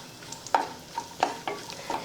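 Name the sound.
frying cashews and almonds in ghee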